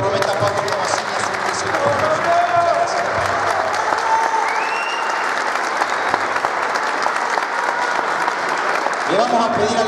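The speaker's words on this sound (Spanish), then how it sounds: "con un fuerte aplauso que comprometa a Pablo" Crowd applause fills a political rally proclaiming a mayoral candidate in Zapala, steady and loud for about ten seconds, with voices and cheers mixed through the clapping.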